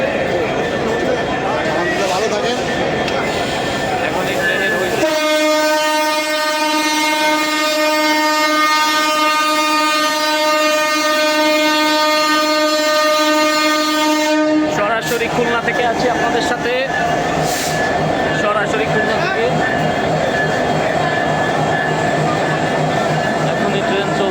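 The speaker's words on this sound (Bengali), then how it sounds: "হায়দ্রাবাদ এক্সপ্রেস খুলনা থেকে আজকে প্রথম যাত্রা শুরু হলো" The Jahanabad Express sounds a long, loud, steady horn blast as it departs Khulna on its inaugural run, with rumbling train noise before and after and voices heard through the clip.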